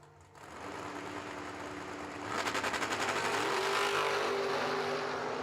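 A Corvette and a Rambler launch at a drag race, the Rambler with its wheels up; engines build from a low rumble into a loud, rapid, pulsing roar that holds steady as both cars pull away.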